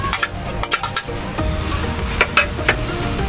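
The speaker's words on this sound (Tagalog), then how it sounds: "So lagay na natin po yung labong." Boiled bamboo shoots (labong) go into a hot pan and are stirred, producing a loud, close sizzle broken by repeated scraping clatters of a utensil against the pan.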